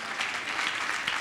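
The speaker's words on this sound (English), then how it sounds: "Can you put your hands together for Master Jesus?" Congregation applauding at a church deliverance service after a man who could not walk is shown walking; steady, dense clapping fills the whole moment at close range.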